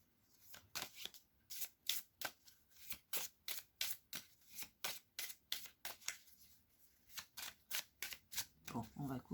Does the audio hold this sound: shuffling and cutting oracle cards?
yes